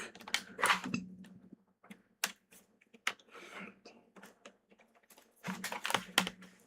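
Bursts of quick clicky keystrokes on a full-size keyboard plugged into a closed Apple laptop set up as a Hackintosh, close and fairly faint, with short pauses between flurries of typing and no speech.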